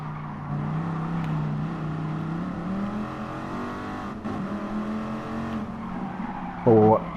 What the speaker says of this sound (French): la Mustang elle dérape plus que la Viper. Lui, il a pris son temps. Quand il a pris son tournant, il a dérapé dans le virage.